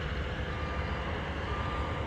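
A truck reverses with a steady tonal beep repeating over a low, constant engine rumble, heard from a moderate distance.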